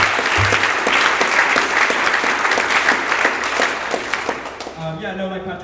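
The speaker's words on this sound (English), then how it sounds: "Round of applause." An audience applauds at a squash doubles exhibition, the clapping dense and lively near the start, then thinning and fading toward the end as a voice begins speaking over it.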